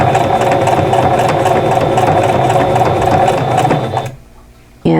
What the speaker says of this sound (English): I am using the foot pedal on this machine today because I'm going to be doing a lot of stopping and starting because of the decorative stitch